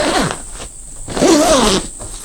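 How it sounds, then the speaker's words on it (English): An expansion zip on a 25+5L Almond Oak travel backpack is unzipped close up, a couple of sharp raspy zipper pulls with a brief pause between them. "So if I unzip this zip here,"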